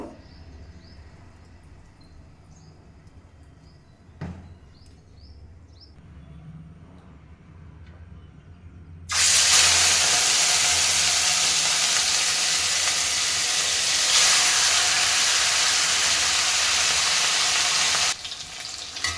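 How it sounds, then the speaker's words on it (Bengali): Catla fish pieces rubbed with turmeric drop into a hot pan of oil for a Bengali doi katla dish, setting off a sudden loud, steady sizzle that continues strongly for several seconds after a quiet kitchen start. "কড়াইটা কিন্তু আমি বসিয়ে দিয়েছি গরম হয়ে গেছে এবার মাছটাকে আমি একটু ভেজে নেব"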